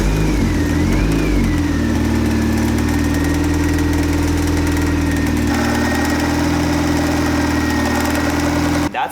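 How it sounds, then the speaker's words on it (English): A Mazda Miata engine runs steadily up close with a bottom-end noise, a loud continuous mechanical drone with a faint rising whine at the start and no one speaking. "I started it and it was still making the noise."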